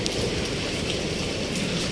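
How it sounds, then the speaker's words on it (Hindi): Steady rain pouring at the Pearl Continental hotel in Lahore, a dense, even patter of drops on surfaces, close and continuous with no voices. "पीसी होटल में अभी बारिश हो रही है।"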